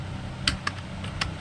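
A few scattered computer keyboard keystrokes, three or four distinct taps over a steady low hum, as someone types HTML code.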